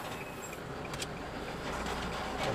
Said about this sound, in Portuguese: Olha o caminhão do correio chegando aí.